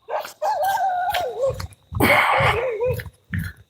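Several dogs bark and howl outside at night in a loud, overlapping chorus of yips and long wavering howls.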